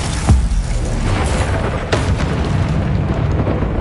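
The Bombarda spell detonates in the video game Hogwarts Legacy as a loud booming blast. A second burst follows over a dense, rumbling mix of combat effects that continues throughout.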